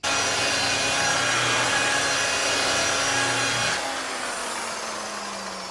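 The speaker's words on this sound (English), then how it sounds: "We're going to buff the rest of the car. Probably use the wool pad because I'm really liking it." A power buffer fitted with a wool pad runs across car paint with a steady, loud, dense whirring rub that holds evenly, then drops slightly in pitch and level for the last couple of seconds.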